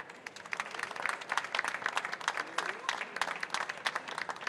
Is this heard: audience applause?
yes